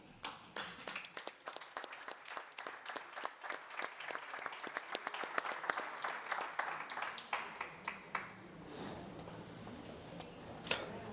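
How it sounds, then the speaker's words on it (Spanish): Applause from an audience at a political summit panel in Madrid, dense clapping that thins and fades out over about eleven seconds. "Un aplauso."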